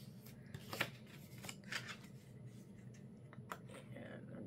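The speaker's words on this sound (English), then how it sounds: "So we're folding." Paper from 6x6 craft paper packs being folded and handled, with soft rustles and several crisp creasing swipes over a steady low background hum, fairly quiet and close.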